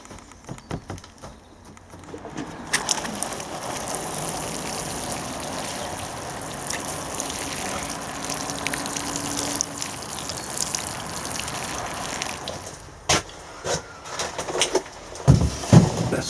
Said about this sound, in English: I'll give them a water.